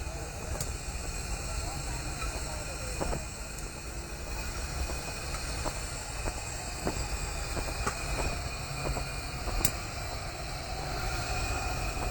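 A train rumbles steadily past at the Lake Placid stop with a broad, continuous roar and scattered clicks and clanks from the wheels, with faint voices underneath.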